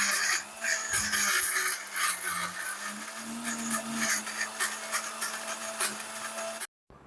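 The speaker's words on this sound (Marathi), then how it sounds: "थंड झालेला मसाला ना मिक्सरमध्ये लावून घ्यायचा आहे, छान त्याची स्मूथ पेस्ट करायची आहे" A mixer grinder whirs loudly and steadily, blending cooled masala into a smooth paste, then cuts off abruptly near the end.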